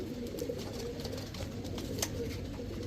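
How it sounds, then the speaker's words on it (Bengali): Female Pakistani teddy pigeons coo in low, steady murmurs against a continuous room hum, with a few faint higher chirps scattered through. "সবগুলা মাদি কবুতর।"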